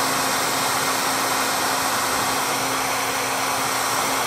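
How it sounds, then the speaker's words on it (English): A hair dryer blows continuously with a steady, loud whir, heating dirt bike graphics so a misapplied decal can be peeled and reworked. "Get your hair dryer, let it sit on that for a minute."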